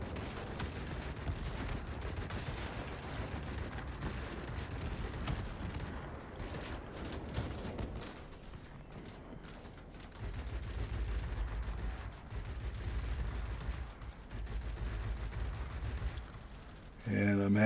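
Rapid cannon bursts from a warplane in World of Warplanes, sustained rattling fire in several stretches with pauses, low booming rumble, someone talking over parts of it.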